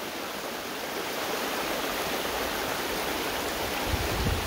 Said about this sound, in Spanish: este río aquí está bastante amplio.